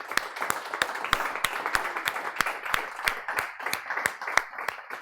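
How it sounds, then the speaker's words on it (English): A small room of people at a business meetup gives a round of applause, with sharp distinct claps layered over a softer steady patter, fairly close. "Please give the team a round of applause for making this happen."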